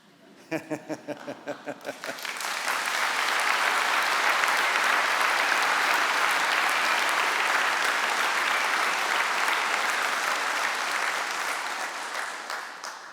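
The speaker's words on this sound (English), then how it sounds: "That's a sort of okay level of applause." A few separate claps, then a large audience at a London degree ceremony breaks into loud, continuous applause that swells, holds steady for about ten seconds and slowly tapers off.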